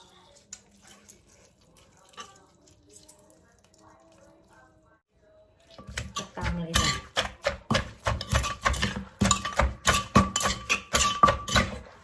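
Long beans are pounded in a mortar for a Thai salad. After a quiet opening, a run of steady, rapid, fairly loud thumps starts halfway through and continues without pause.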